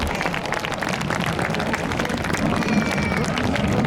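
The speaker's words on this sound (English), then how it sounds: "Let's give the synchro pair and Red 8 a massive round of applause" An outdoor air show crowd at Royal Air Force Cosford applauds the Red Arrows synchro pair, a broad continuous patter of clapping and crowd noise, with speech mixed in.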